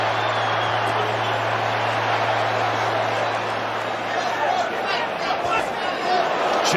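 Boxing arena crowd reacting to a missed uppercut in a world title fight, a dense, loud roar of voices swelling throughout, with a low steady hum underneath.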